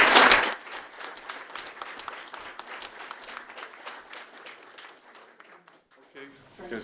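Applause from an audience at a student and staff recognition ceremony, a dense burst of clapping that starts loud, then thins and fades over several seconds.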